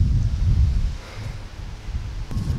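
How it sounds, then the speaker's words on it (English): Gusty wind buffets the microphone outdoors, a loud low rumble that swells and eases, with a brief rustle near the end and no voices. "Yeah, it's too windy to play"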